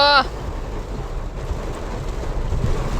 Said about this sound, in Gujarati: જો વરસાદ જો તો ફૂલ વરસાદ આવી ગયો